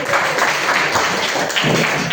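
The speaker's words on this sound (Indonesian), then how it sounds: "Tepuk tangan buat abstraksi" A classroom of students claps together during a coding lesson, a steady dense patter of hands filling the room for a couple of seconds without talk.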